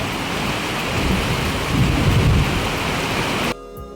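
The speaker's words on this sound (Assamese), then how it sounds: "আপোনালোকে চাব পাৰে কেনেকুৱা বৰষুণ দিছে" Heavy rain pours steadily in a dense, loud hiss with a low rumble underneath, then drops off abruptly just before the end.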